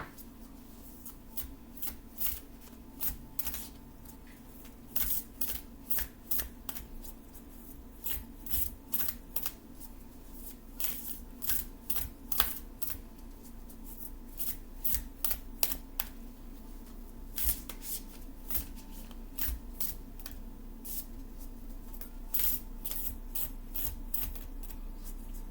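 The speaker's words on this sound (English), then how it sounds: "Some shuffles just don't feel right." Tarot or oracle cards being shuffled by hand over about 25 seconds, with bursts of crisp riffling snaps and soft slides in irregular rhythm. The shuffling is close and clear, with a low steady room hum underneath and no talking.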